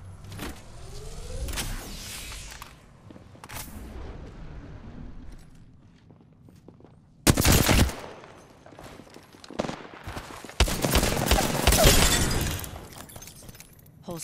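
Gunfire in the Apex Legends video game: sharp, loud bursts of shots and clattering impacts come in irregular clusters, with heavy rapid volleys around the middle and later stretches over a quieter rumbling background.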